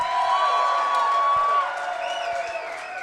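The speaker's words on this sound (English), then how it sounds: "Unbelievable crowd here." A large crowd cheers and whoops at a Green Bay Packers Clubhouse Live event held in a hotel, a sustained roar with high shouts rising over it, strongest early and easing slightly toward the end.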